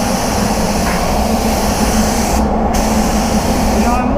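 A spray gun hisses steadily while laying Lunar Grey base coat with slow reducer onto a Jaguar XF car panel, loud and continuous with two brief breaks in the spray.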